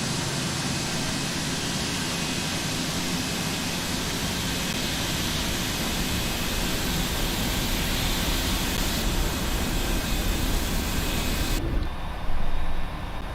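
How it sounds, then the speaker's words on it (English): Jet airliner engines in the Prepar3D flight simulator game, heard from outside with four engines started, produce a dense, steady, whooshing roar that cuts off abruptly near the end. "Let y'all hear these engines on the outside for a second."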